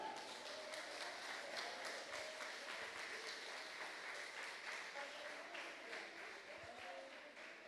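Congregation clapping at a Methodist deliverance service held live at night, a steady dense applause running the whole time with a faint voice carrying over it.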